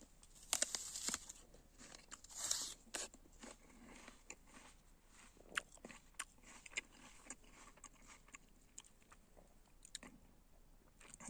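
Close, quiet crunching bites into a crisp Gala Must apple, followed by irregular chewing and crunching for several seconds.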